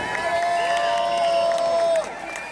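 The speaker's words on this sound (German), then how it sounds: "bitte auch einen Applaus an unser wunderbares Team" Rally crowd in Vienna cheering and applauding the organizing team, a loud sustained burst of voices and clapping that drops off sharply near the end, with a faint whistle-like tone running through it.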